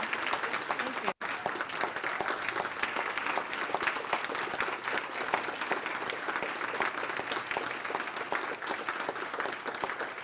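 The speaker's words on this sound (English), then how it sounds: "thank you for that round of applause" Steady applause from an audience at an education program announcement event fills the whole stretch, dense and continuous with one brief dropout near the start.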